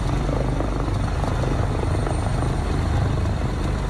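A helicopter flies close overhead on a firefighting water drop near a Los Angeles wildfire, its rotor throbbing in a loud, steady roar with no voices.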